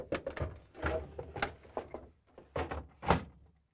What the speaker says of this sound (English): And now again, sliding in the ice container.